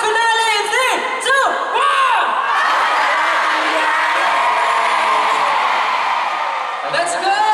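A concert crowd at the Pagtatag Finale concert shouts and cheers together at close range, with loud, overlapping voices rising in bursts and a sustained roar.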